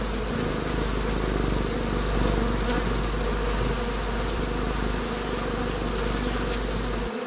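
A dense, steady drone of honeybees swarming on the honeycombs as they defend the hive against a raiding death's head hawkmoth, loud and close, continuous for the whole stretch with faint flickers of individual wingbeats.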